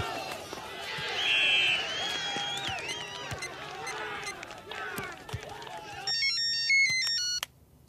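A phone ringtone in a Hindi film scene: a stepped electronic melody that sounds near and loud at the close, after busy mixed background sound and voices.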